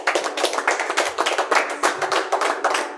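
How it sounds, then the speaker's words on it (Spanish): Rhythmic clapping from a church congregation after a prayer, sharp hand claps in a steady, fairly fast beat, close and clear without talk over it. "Dale un aplauso"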